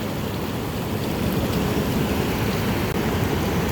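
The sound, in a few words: rain falling in a windy field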